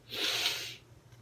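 A single breathy, hissing blast like a loud sneeze or snort from an elephant, brief and fairly soft, fading out quickly.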